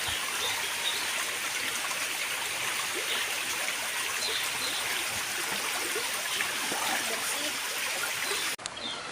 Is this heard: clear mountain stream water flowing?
yes